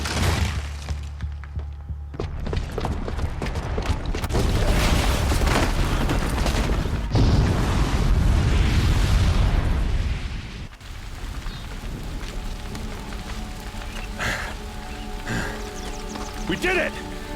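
A booby-trapped bomb detonates in the video game Horizon Zero Dawn: a loud, sustained rumbling blast with crackling debris that swells for several seconds, then cuts to quieter game ambience with scattered clinks.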